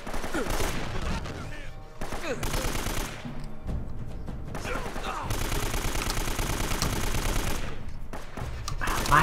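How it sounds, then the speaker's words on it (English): Sustained video game gunfire from Uncharted: Drake's Fortune, with rapid shots and bursts close by under dense action sounds and a voice talking in places. "Why are they not dead after so many bullets hitting them constantly in a row?"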